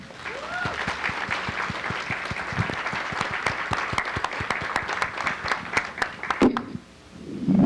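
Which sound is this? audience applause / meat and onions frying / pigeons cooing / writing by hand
audience applause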